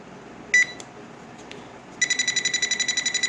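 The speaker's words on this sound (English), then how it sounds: "I've got my wire tester here." A wire tester touched to a live wire gives a short electronic chirp, then after a pause starts a rapid, steady train of bright beeps that runs to the end, close and clear.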